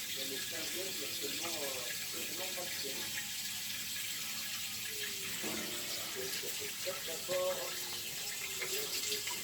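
Water flushing through a heating circuit during a desludging rinse, a continuous rushing flow heard close, with someone talking over it throughout.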